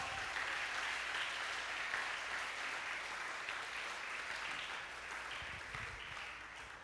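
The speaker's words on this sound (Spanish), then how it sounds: "Dele un buen aplauso al Señor." Sustained applause from a church congregation, steady and moderately distant, fading slightly toward the end.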